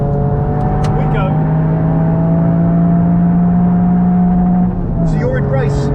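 Toyota Yaris GR on a track day, heard from inside the cabin: a steady engine drone climbs gradually in pitch under acceleration, then dips briefly near the end, with a voice faintly present.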